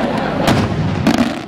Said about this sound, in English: These fireworks are all made in local factories and are fired into the air in enormous quantities from fields outside the village.